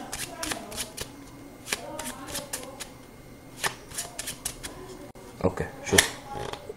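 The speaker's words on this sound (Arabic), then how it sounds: "اوكي، هخربط الورق." Playing cards shuffled by hand during a magic trick, a series of quick crisp riffling bursts with irregular spacing, close and clear, a sharper flurry near the end, with people talking softly around them.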